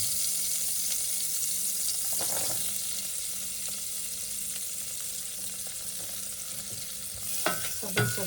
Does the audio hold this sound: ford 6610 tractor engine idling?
no